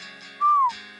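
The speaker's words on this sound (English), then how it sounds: "Let's see if you can find an appropriate whistle for this." A single short whistle slides slightly downward in pitch, clear and close, set over a quiet background hum.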